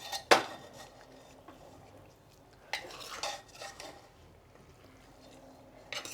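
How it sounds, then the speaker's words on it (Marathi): Chicken biryani is stirred and mixed in a pot, giving a sharp metallic clank at the start, then scraping and clinking at intervals, with quieter stretches between. "आणि आता बिर्याणी मिक्स करून घेऊया."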